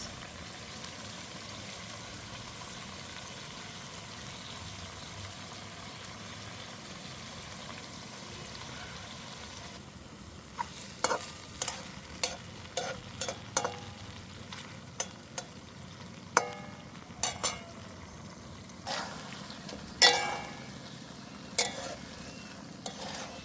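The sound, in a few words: chicken chukka frying and stirred after adding tomato sauce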